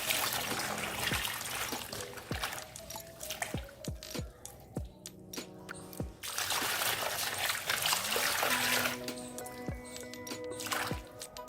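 Neem leaves being washed by hand in water, with close splashing, trickling and dripping that comes in bursts separated by quieter stretches of scattered drops.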